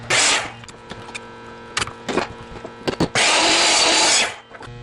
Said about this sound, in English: before I reset my saw, I'm going to cut a new end with that same angle on it.